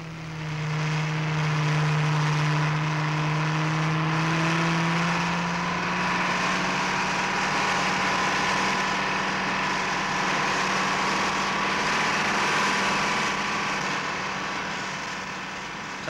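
An off-road truck carrying pipes for a pipeline runs with a steady droning engine, a low tone that rises slightly and then holds, continuous and fairly close for the whole stretch.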